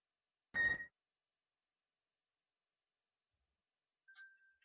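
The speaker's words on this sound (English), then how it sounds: "As my phone goes off." Mobile phone going off with two short electronic tones, one early and one near the end, separated by silence.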